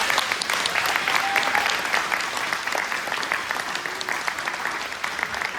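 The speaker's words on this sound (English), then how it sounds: "can I get one round of applause for everyone I've mentioned here?" A graduation ceremony audience claps in a dense, sustained round of applause that stays loud and even throughout, with a few cheers mixed in.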